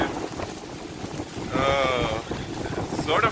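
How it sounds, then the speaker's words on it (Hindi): Strong wind and heavy rain lash the shore in the Maldives, a steady rushing roar close to the microphone with gusts buffeting it, while a brief tonal whine rises in the middle and again at the end. "इस वक्त काफ़ी तेज़ बारिश होना शुरू हो गई है. ये आप देख सकते हैं काफ़ी तेज़ हवा भी है"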